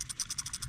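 A ratchet wrench tightens bolts on a Toyota T100 CV axle, giving a quick run of about eight even, crisp clicks in under a second, close and fairly quiet.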